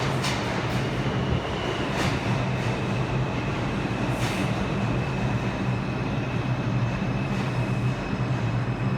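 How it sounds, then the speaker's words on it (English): A Manhattan-bound NYC subway 2 train runs underground with a continuous loud roar, low rumbling and periodic clacks from the wheels, heard from inside the car. "This is a Manhattan-bound 2 train."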